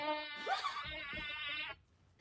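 A toy plays a close, buzzing electronic bee sound, holding steady for a moment and then cutting off abruptly.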